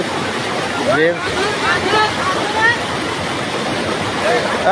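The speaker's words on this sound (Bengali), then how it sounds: "আরে পানির স্রোত তো মেলা" A loud, steady roar of rushing floodwater from a strong current fills the scene, with people's voices calling out over it.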